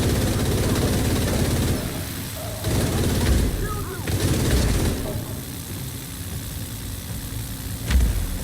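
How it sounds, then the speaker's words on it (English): A minigun in a video game fires in a sustained, dense roar that dips briefly and resumes in long continuous bursts, loud and close. "I'm using the minigun instead."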